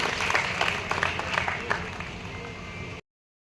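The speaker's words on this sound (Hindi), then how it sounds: "जोरदार तालियां हो जाए इसके लिए" Audience applause at a ceremony for students supported by the Shri Vishwakarma Education Trust, a dense burst of many hands clapping that runs about three seconds and then cuts off abruptly.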